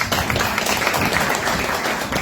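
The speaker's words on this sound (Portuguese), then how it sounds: "Vamos dar os palmas, senhores queridos." Congregation clapping together during a church praise service, a dense steady patter of many hands filling the room at close range.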